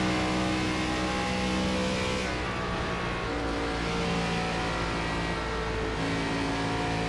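Race car engines in the iRacing ARCA Menards Series game at Charlotte, a loud steady droning roar of several cars running together in a draft, continuous throughout with slight shifts in pitch.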